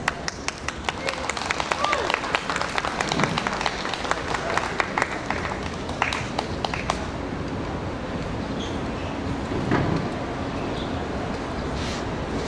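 Applause from an outdoor folk festival audience at an open-air garden stage in Riga, dense rapid clapping that fills the first half and then thins and fades, with voices murmuring underneath.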